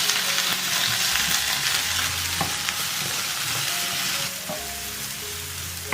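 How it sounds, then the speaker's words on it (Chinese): Apple pieces stir-fried in a thin layer of oil in a wok, a steady close sizzle with scraping and stirring knocks running throughout, without any talk. "锅里留一点底油，把苹果倒进来翻炒"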